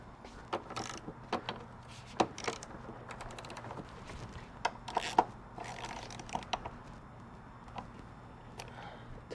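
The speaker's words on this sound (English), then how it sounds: "Now we're gonna go ahead and torque this bolt." A wrench tightens a bolt on the transfer case of a BMW G01 X3 during a bushing repair, giving faint, scattered mechanical clicks and ratcheting ticks in a quiet garage.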